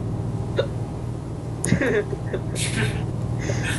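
A single hiccup rises briefly over steady low engine hum while Euro Truck Simulator 2 plays, followed by faint clicks and rustles.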